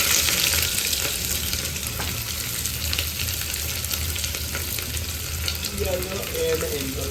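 Onions frying in hot oil in a home kitchen while mutton curry is cooked, a steady close crackle and hiss that runs throughout, with faint stirring scrapes and no voices.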